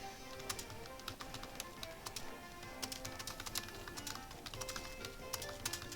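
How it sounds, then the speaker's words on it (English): Rapid, irregular clicking of keys on a computer keyboard, steady and fairly close, with no voices. "I shouldn't be typing in the middle of my videos"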